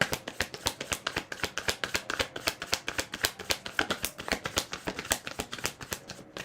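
Tarot cards being shuffled close by in a steady, rapid run of crisp riffling flicks, continuous throughout with no talk.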